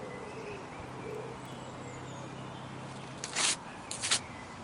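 Songbirds calling outdoors, a few faint chirps against a quiet background hiss, with two brief brighter bursts of sound near the end.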